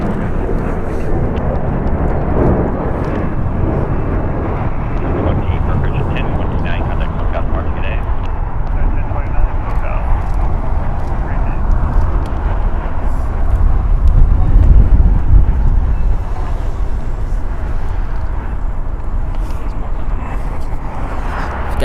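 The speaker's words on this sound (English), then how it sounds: "Departing is United Airlines in its Star Alliance livery. Flight 1029, going to Denver, a Boeing 737-8, 14 years old." United Airlines Boeing 737-8 in Star Alliance livery departing for Denver, a loud low jet rumble with wind noise, swelling briefly mid-way, while a person talks over it.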